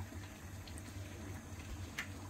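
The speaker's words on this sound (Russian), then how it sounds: "Макарики варятся, сухарики жарятся." Pasta boiling in a pot of water on a home stove, a steady low bubbling hiss with faint occasional pops, close and continuous throughout.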